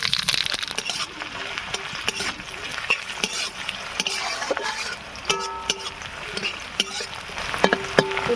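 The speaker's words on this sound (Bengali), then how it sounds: "এবার পেঁয়াজটা ভাজা হয়ে এসছে" Onions fry in white oil with black cumin in a kadai, a dense close sizzle punctuated by frequent clinks and scrapes of a metal spatula against the pan.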